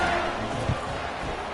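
A home crowd at a Michigan football game against Buffalo cheers in a steady, dense roar that fills the moment, with one brief thump partway through.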